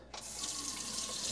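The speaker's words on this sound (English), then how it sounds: "Pump on. It's sucking water." An RV water pump draws water from the tank, heard as a steady close hiss of running water that starts abruptly after a brief moment of quiet and continues alone.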